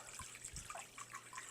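Room-temperature tap water runs steadily into a flower-arrangement bowl, a continuous close splashing hiss with no talk.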